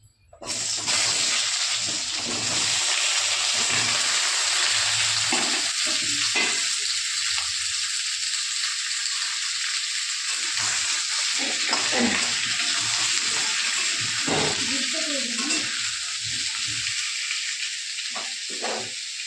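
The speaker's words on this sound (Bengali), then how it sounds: "যেটুকু তেল আছে এই তেলের মধ্যে আমি পেঁপে আর আলুটাকে একটু ভাজা ভাজা করে নেব।" Pieces of papaya and potato fry in the leftover oil from making lentil fritters, a loud continuous sizzle close by that runs the whole way with occasional stirring and sputtering.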